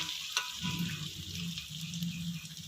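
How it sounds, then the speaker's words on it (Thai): Central Thai curry paste stir-fried in a pan for a spicy catfish dish, a soft steady sizzle with light scraping and stirring strokes, fairly quiet and without any talking. "แล้วก็ผัดให้มันหอมๆนะครับ ผัดคลุกเข้าไปเรื่อยๆนะครับผม"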